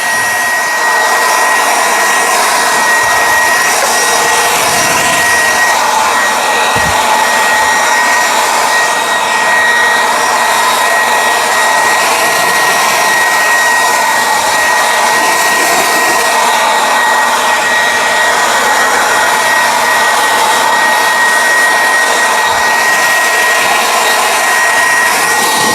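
A cordless leaf blower powered by 20-volt lithium-ion batteries blows leaves clear outdoors with a loud, continuous, breathy roar. It holds a steady high whine throughout, with no talking.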